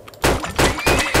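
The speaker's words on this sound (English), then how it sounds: "We've got a horse out." A horse whinnies in the Turmoil oil-drilling game, coming as repeated loud bursts close up, with one drawn-out call carrying a rising squeal.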